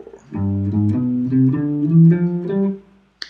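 A plucked guitar runs up a G Mixolydian flat 2 scale one note at a time, about eight notes in steady succession, clear and close, ending with a brief scrape.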